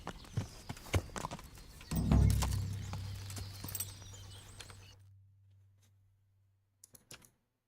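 Horse hooves clip-clop in a quick, steady run in the video game Kingdom Come: Deliverance, then a low droning rumble takes over and fades, followed by a few last faint taps.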